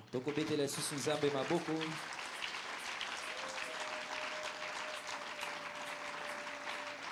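A church congregation applauds and cheers in praise of the Lord, a steady dense wash of clapping that takes over after a couple of seconds of voices and lasts to the end.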